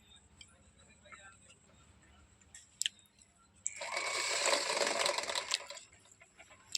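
A table fan with loose, untightened screws rattles in a steady, fairly loud buzzing burst for about two seconds, rising after faint background sounds and then dropping away.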